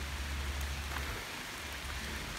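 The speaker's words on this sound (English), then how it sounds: "you can hear the raindrops that taps on the leaves on the trees" Steady rain patters on tree leaves outdoors, a continuous soft, close wash of drops with no voices.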